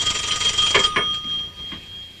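A telephone rings at a family gathering in a 1980s domestic drama, a steady electronic tone with a brief burst of ringing partway through, fairly close and with no one speaking.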